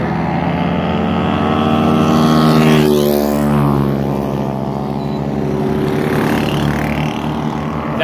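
A motorcycle engine drones loudly and continuously, with its harmonic pitch swelling and sliding as if passing close by, near horses unsettled by the noise.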